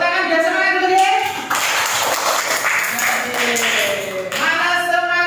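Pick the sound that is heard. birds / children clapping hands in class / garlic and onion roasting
children clapping hands in class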